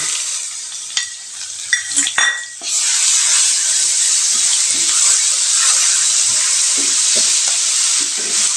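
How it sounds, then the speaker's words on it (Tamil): Curry leaves, turmeric, asafoetida and ground paste being sautéed in a pan for lemon rice, with a few sharp utensil clinks and stirring scrapes, then a loud, steady close sizzle of oil frying the spices that continues throughout. "இது நல்லா பச்சை வாசனை போகிற வரைக்கும் நல்லா வதக்கி விடணுங்க"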